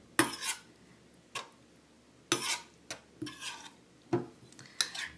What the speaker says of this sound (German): Ich muss das mal umrühren.